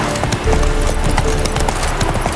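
Roach, a horse in The Witcher 3, clip-clops along on her hooves in a steady, close, fairly loud walking rhythm over a soft background bed.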